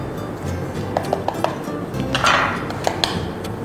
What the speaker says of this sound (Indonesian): Kita aduk jadi satu dulu.